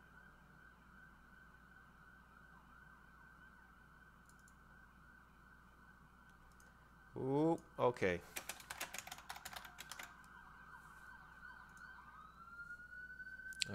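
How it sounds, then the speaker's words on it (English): A wailing emergency vehicle siren outdoors, heard faintly and steadily for most of the stretch before briefly rising louder, with keyboard typing clattering nearby and a voice speaking. "Okay, pause for siren."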